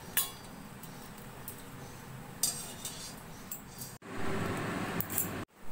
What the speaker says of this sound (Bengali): এই বোঁদেগুলোকে আমি এই চিনি শিরার মধ্যে দিয়ে দেব।